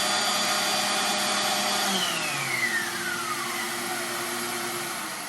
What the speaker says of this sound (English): if I turn the sander on, it should turn the vacuum on